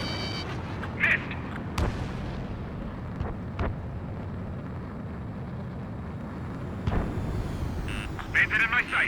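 Missiles launching in Ace Combat 7, heard as several sharp bursts and whooshes over a steady roar of jet engine noise, with a radio voice talking and a few bright warning tones.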